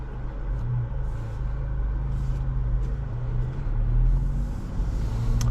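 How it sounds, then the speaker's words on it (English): A 2026 Acura Integra Type-S on the road, heard from inside as a steady low engine and road rumble with faint ticks and bumps, no talk. "Let's get this car out on the road and go for a quick drive."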